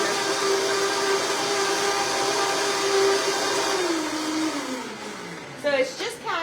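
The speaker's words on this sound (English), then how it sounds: "Okay, she's got it in the blender." A kitchen blender whirs loudly and steadily as it purees cashews and water, its pitch dropping as the motor slows and stops near the end, followed by brief clatter.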